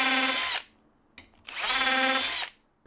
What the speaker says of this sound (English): I'm going to drill out the holes using a self-centering bit.